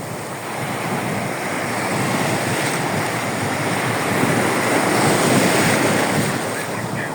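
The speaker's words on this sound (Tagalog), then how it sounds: "Palaki na palaki ang alon!" Heavy surf rolls in continuously with a deep, broad roar, mixed with wind buffeting the microphone.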